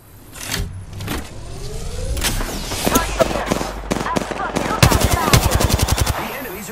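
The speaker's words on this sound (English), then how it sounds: "The enemies are shooting at me." Enemy gunfire in the Apex Legends video game, loud bursts of rapid automatic shots that build into a dense, fast rattling volley toward the end, alone with no talking.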